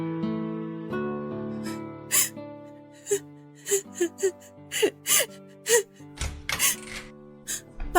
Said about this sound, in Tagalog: Narinig ko po kasi kayong umiiyak.